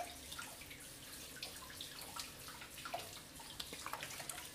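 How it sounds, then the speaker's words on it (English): Hands are washed under a running tap, a steady splash of water with small irregular drips and splatters, close and moderately loud with no talking. "I'm washing my hands"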